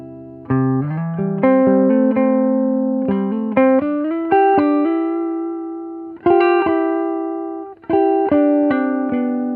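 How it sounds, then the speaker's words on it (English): Electric guitar on its neck pickup, played as a jazz-style line of plucked single notes and chord stabs, clean with warm sustained tones and slight effects, steady and close with no talking. "So this is the neck pickup."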